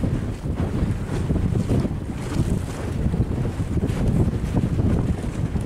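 A cargo ship carrying containers moves through the water, and the wake of a passing ship washes by as a steady, loud rush of waves and wind noise with no talking.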